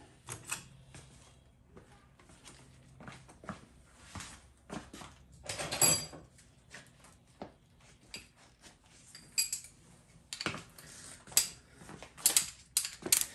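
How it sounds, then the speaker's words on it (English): A ratchet and socket work a stubborn bolt on a GM TH350 automatic transmission front case. Quiet, scattered clicks and light metallic clanks come in irregular clusters close by. "I'll have to use a ratchet and a socket to get that one to go"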